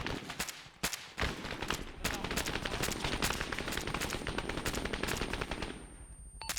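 Rapid automatic gunfire and sharp single shots crackle through a tactical shooter game during a rescue mission. The bursts come close and repeated over a continuous dull background.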